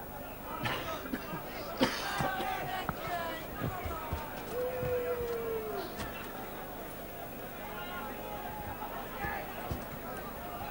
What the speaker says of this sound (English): you can hear the crowd getting right behind the liners